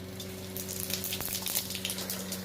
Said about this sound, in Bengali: তেল গরম হচ্ছে আমি কিছু সাদা জিরে এবং একটু গরম মশলা ফোড়ন দিয়ে দিলাম